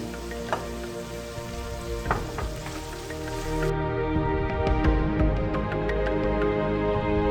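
Onions salted and frying in a pan while making Kayseri yağlaması, a steady crackling sizzle with dense popping that grows a little louder partway through, close by and with no voices.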